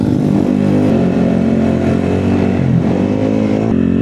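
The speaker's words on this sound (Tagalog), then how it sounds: "Ano yung maingay na yun? Okay lang kaya yung motor niya." A motorcycle engine runs steadily close by, a loud continuous mid-pitched drone with a slight rise in revs partway through, with no voices over it.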